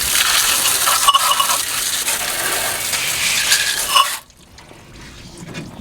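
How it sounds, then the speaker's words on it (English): Water rinses off a part of an abandoned 1961 Ford Falcon, a loud, steady splashing hiss that runs for about four seconds and then cuts off abruptly, leaving quiet. "Go ahead and rinse this off of here"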